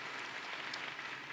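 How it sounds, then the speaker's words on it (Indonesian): A church congregation applauding during a worship service, a steady wash of clapping that holds at an even level for about a second with no voices over it. "Yuk tepuk tangan buat Tuhan Bapak Ibu dikasihi"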